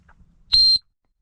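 A single loud, piercing blast from a ThuNite emergency whistle rated at 128 decibels, lasting about a quarter second, shrill and close, after a faint murmur.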